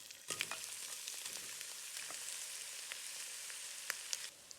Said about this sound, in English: Add oil into the hot wok and then add the mussels.